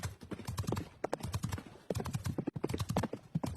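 Horse hooves clip-clop in a quick, steady rhythm, fairly close and loud, with the odd whinny-like burst mixed in and no speech over them.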